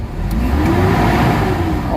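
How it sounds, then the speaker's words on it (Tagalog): Gasoline engine of a Mitsubishi Adventure running steadily with a low, continuous hum and a slight rise in pitch, heard up close with no talking. "Mitsubishi Adventure na gasoline engine. So pakinggan niyo yung RPM niya."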